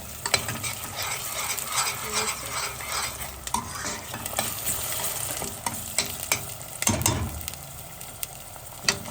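Onion fries in a pan with a steady close sizzle while a spoon stirs it, giving soft repeated scrapes and occasional light clinks against the metal.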